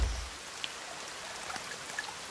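Soft, steady rainfall in the survival game The Forest, a faint continuous hiss with a few scattered drips, distant and alone.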